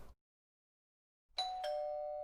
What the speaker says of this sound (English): nothing like a doorbell to jolt you out of a blissful slumber